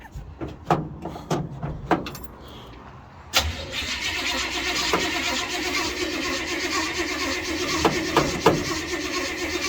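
A Jeep Wrangler YJ Unlimited with a rough exhaust cranks over in sharp clicks and bursts, then fires and settles into a loud, steady idle with an uneven rumble.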